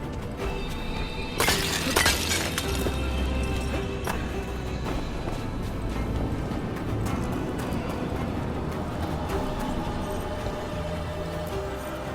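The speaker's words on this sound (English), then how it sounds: "If provoked, these manifestations will shatter." Despair spirit manifestations shattering in Dragon Age: The Veilguard, a loud burst of glassy breaking about a second and a half in, followed by a steady dense rumble of game ambience with scattered clatter.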